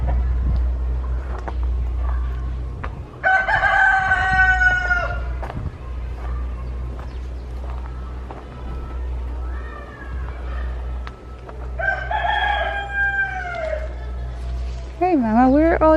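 Farm hen with her brood, clucks and chick peeps popping up in brief bursts over a steady low engine-like hum, with a person talking nearby.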